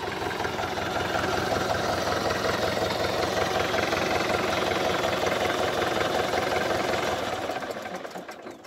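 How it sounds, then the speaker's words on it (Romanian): A tractor engine idles with a steady, rapid knocking chug, close and loud, then winds down and cuts off near the end. "oprește tractorul"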